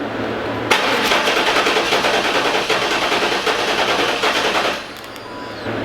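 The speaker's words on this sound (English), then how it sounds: "it's also cranking faster since we don't have any accessories on right now" LT1 V8 in a fourth-generation Pontiac Trans Am cranks on the starter during a compression check, a fast rhythmic churning that runs loud and steady for about four seconds, then stops.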